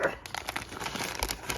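Sealed plastic bag holding a custom toy figure being crinkled and opened by hand, a close, continuous rustle with sharper crackles throughout, no speech.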